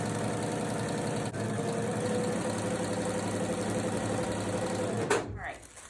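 A sewing machine stitches two pieces of fabric placed right sides together, running in a steady, continuous mechanical whir for several seconds before stopping abruptly near the end.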